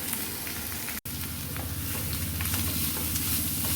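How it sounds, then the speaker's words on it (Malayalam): Grated beetroot and green chili fry and get stirred in hot coconut oil with onion, a dense steady sizzle close up with light scraping, broken once by a sudden brief dropout. "പിന്നെ ഗ്രേറ്റ് വെച്ച ബീട്രൂട്ട് ഇട്ട് കൊടുക്കാം."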